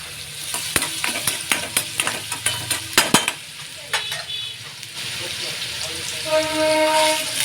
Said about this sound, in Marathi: तेल टाकलं, मोहरी टाकला, जिरं टाकला, नंतर टाकला कांदा.